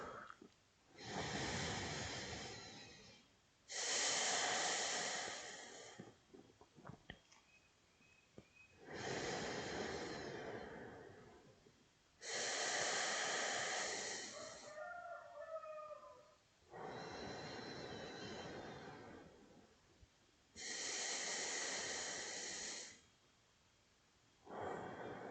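Deep, slow breaths during a yoga class, each long exhalation a loud, airy rush through the nose and mouth, repeated about six times in steady cycles with quiet pauses between, close and alone.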